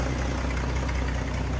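A 1950 Chevrolet Styleline Sport Coupe engine idling smoothly up close, a steady even low rumble with fine rhythmic pulsing and no variation across the short stretch.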